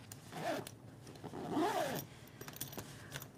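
A zipper on the pocket of a sewn fabric backpack is pulled open and closed in a few quick close-up rasping strokes, clear and alone, with light fabric rustling between pulls.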